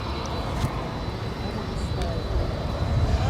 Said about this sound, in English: It's an A321 rolling down 36 right.